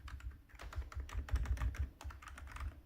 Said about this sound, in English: so it does have a bit deeper of a sound, which we can kind of hear here